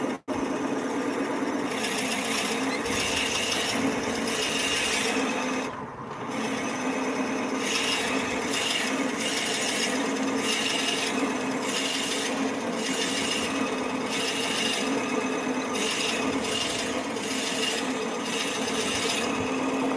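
A steady mechanical whir with a gritty, grinding edge runs nonstop as a drill bores into wood on a spinning lathe with a steady rest, loud and close, with no talk.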